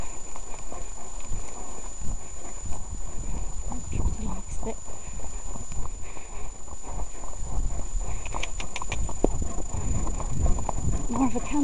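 A horse crossing rough, boggy ground with gorse outdoors, hooves thudding in an uneven rhythm under constant wind noise, with a rider's voice speaking at moments.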